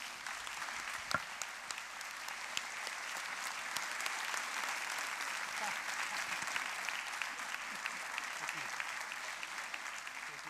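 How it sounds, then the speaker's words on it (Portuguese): An audience applauds steadily for a guest at a literary talk, sustained even clapping at a distance with a few sharper claps standing out, fairly faint throughout. "Senhoras e senhores, o vosso aplauso para José Tolentino Mendonça."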